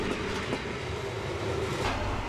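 A weed-spraying train rolls along a railway track, giving a steady, close rumble with rhythmic clickety-clack from the wheels throughout, and no talk.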